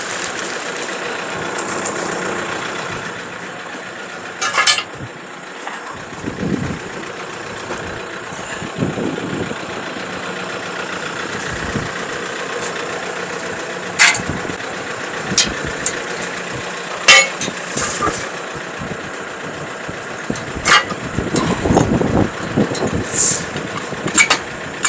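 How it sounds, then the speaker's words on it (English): A tractor engine idles steadily at close range during a farm restoration job, under clanks and knocks of work with the machine. "We're gonna leave the tractor running"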